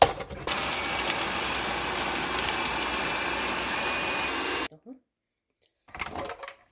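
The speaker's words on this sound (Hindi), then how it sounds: "अब इस सबको ब्लेंड करेंगे।" A blender whirs loudly and steadily for several seconds, blending a spinach pesto green sauce, then stops abruptly, followed by a short second burst after a pause.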